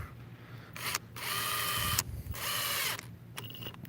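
DeWalt XTREME 12V brushless impact driver (DCF801) on low mode with a Torx bit, sinking a 2-inch deck screw: two long loud bursts of driving with a whining motor, separated by a short pause, with brief blips before and after.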